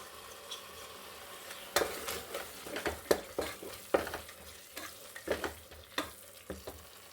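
Vegetables and corn sautéing in a pan for mushroom palak pulao, a steady sizzle punctuated by repeated spoon scrapes and stirring knocks, close and clear with no talking.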